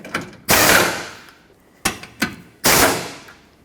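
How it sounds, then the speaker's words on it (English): Ratchet tightening the top bolts on the upper radiator support of a 2009-2014 Ford F-150, heard as three or four separate sharp bursts of loud ratcheting, each fading out, with short pauses between them and no talking. "And now I'll tighten the top."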